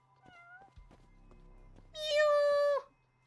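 A cat meowing in the video game Judgment: a short, loud, sustained meow near the end, preceded by faint clicks and game sounds.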